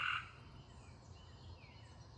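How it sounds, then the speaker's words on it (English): Frogs croak steadily in the distance at nightfall near a vegetable garden, a soft continuous chorus with insects, one brief brighter call at the very start. "the frogs are croaking"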